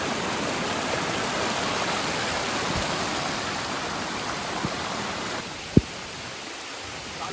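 Kataldhar Waterfall sends a constant broadband roar of flowing water, close and loud, with a sharp knock near the end before the rush softens slightly.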